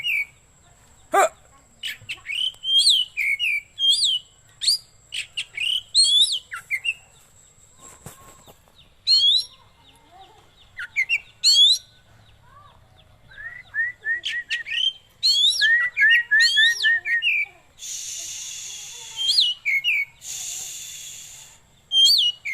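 Oriental magpie-robin (kacer) singing up close, loud bursts of varied whistles, chirps and trills separated by short pauses, with a few harsher rasping calls toward the end.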